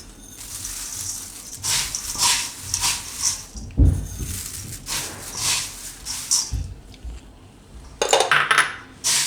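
Bhel snack of nylon poha chevdo, puffed rice and sev being mixed in a bowl, a steady dry rustle and scrape of crisp pieces with a sharp knock midway and a brighter clatter near the end.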